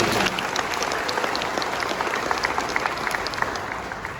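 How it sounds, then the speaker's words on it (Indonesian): Applause from an audience at a volunteer rally, a dense steady wash of clapping that holds at full strength for the whole span with no voices over it. "Tepuk tangan untuk teman-teman."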